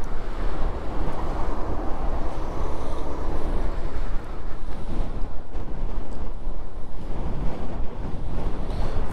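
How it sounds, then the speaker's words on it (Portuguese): Strong wind buffets the microphone during a master-category race along a stretch beside a highway, a loud, steady rumbling roar that lasts the whole time without a break. "é um vento que só vendo"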